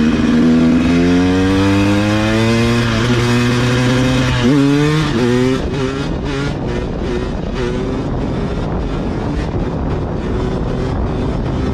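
A motorcycle engine performing stunts revs loudly and continuously, its pitch climbing and dropping in repeated surges before settling into a rough, steady roar, close and dominant throughout.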